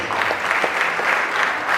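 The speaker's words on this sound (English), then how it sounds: "So give yourselves a big round of applause." A crowd applauding at a Pakistan Independence Day celebration in a council chamber, with steady, even clapping that continues throughout without a break.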